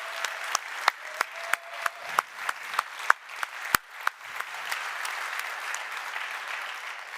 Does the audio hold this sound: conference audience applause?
yes